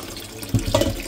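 Tap water runs into a pot in a home kitchen, filled to be boiled for cooking ackee and saltfish; a steady close splashing stream that grows louder and fuller about halfway through, with no talking.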